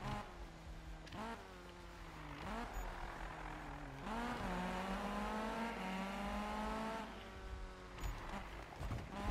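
Engine of a Volvo 242 in the racing game Need for Speed (2015) rises and drops as it revs through gear changes, a steady mid-level drone with repeated upshifts, with no voices.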